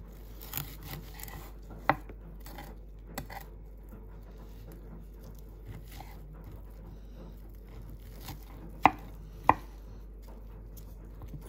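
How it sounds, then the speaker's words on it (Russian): Several sharp knife strikes against a cutting board, cutting ribeye steak into large pieces, spaced irregularly, with quiet background noise between the cuts. "Куски нарезаем крупными"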